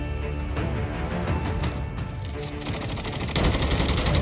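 Sustained automatic gunfire from a teammate in a shooter video game, dense rapid bursts rattling continuously and loud, with a brief gap near the middle and a heavier stretch of shots toward the end.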